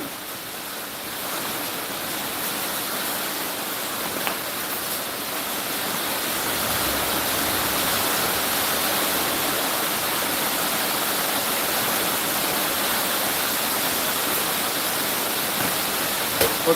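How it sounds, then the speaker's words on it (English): Heavy rain pours down in Florida as a dense, steady hiss that fills the whole clip, loud and even, with no voices over it. "While it's pouring rain in Florida."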